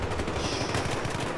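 Sustained machine gun fire in a Battlefield 3 64-player server match, a dense, loud rattle of rapid shots continuing through the short burst without talk.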